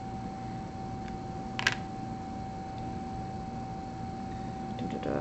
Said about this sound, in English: I'm going to use my scissors. I'm going to cut it.